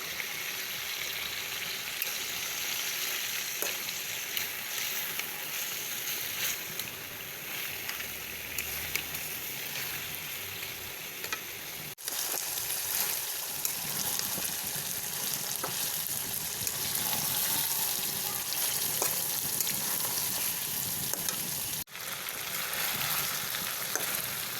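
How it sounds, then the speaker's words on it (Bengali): Chicken pieces sizzle and sputter steadily in a covered pan while being sautéed for morog polao, a broad continuous frying hiss with faint stirring scrapes, briefly interrupted twice, no voices. "মাংসগুলো ভালোভাবে কষিয়ে ঢেকে দেব"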